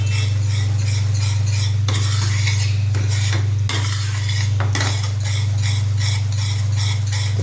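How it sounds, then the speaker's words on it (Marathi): A utensil stirs a thick vadi sweet mixture in a metal pan, scraping and clinking in a steady repeated rhythm over a constant low hum and faint sizzle, close up with no talking. "याला चांगलं ढवळून घ्यायचं"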